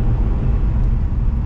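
Steady, loud low-pitched roar of an older Jaguar V8 accelerating on an open country road, heard from inside the car as a continuous dense rumble with no talking over it.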